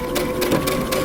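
Sewing machine stitching down a side seam of a long coat or vest, a close mechanical whir with quick rhythmic needle thumps repeating about four times a second.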